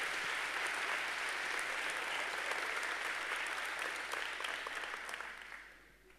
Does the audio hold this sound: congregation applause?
yes